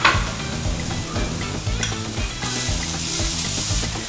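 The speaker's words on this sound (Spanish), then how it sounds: "Vamos a agregar el ajo y la cebolla en la misma sartén donde preparamos nuestro pollo. Y los vamos a dorar durante unos 2 minutos." Garlic and onion brown in a frying pan that still holds the juices from cooked chicken, giving a steady, loud, close sizzle throughout with no voices.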